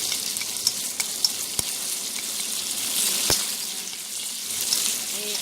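Chicken pan-frying with spices gives a steady, close hissing sizzle that runs unbroken throughout, with a few sharp clicks and taps of a utensil against the pan.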